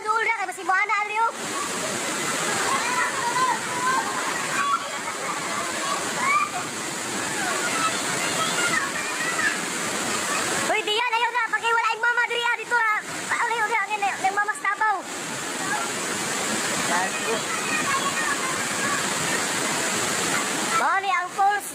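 Floodwater pours over a waterfall in the Philippines in a loud, continuous rushing roar, while several people talk and call out excitedly over it in bursts.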